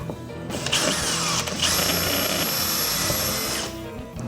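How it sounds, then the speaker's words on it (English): Power drill boring holes into a wall to mount a TV bracket: a loud, steady high-pitched whine running for about three seconds after a short initial burst, close up, with no talk. "And now we drill."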